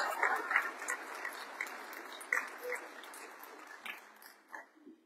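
An audience claps in applause at a political gathering honoring a congresswoman, a moderately loud patter of many hands that thins out and fades toward the end.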